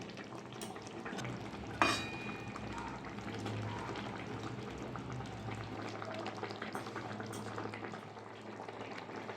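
Shrimp fritter curry gravy at a steady rolling boil in a pan, a continuous bubbling and simmering hiss with a brief sharp clink near the start, close and moderately loud throughout.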